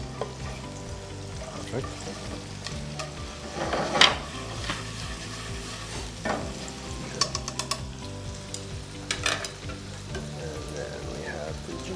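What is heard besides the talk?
scallions frying in pan for Thai red curry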